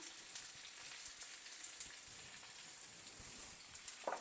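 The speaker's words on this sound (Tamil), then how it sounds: "இதெல்லாம் கொஞ்சம் நல்லா ஃப்ரை ஆகட்டும்" Onion and garlic frying in oil, a faint steady sizzle with soft crackles throughout and a small clink near the end, with no talking.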